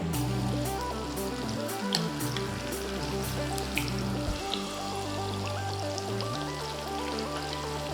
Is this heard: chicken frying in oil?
yes